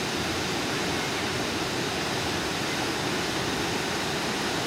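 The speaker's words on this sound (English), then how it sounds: "This is Topcliff Weir. The water is going down." The River Swale pouring over Topcliff Weir while carrying peat, a dense, steady rushing roar of falling water that fills the whole clip without a break.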